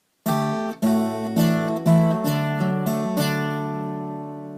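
A close acoustic guitar plays a phrase of the Cockles and Mussels melody as a handful of distinct plucked notes and bass pinches in steady rhythm, ending on a ringing chord that slowly decays, with no voices.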